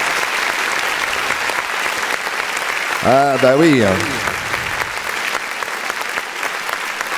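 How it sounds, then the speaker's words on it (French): Sustained audience applause at a French music show in Paris fills the room throughout, with a brief sung or spoken voice rising over it midway. "On applaudit"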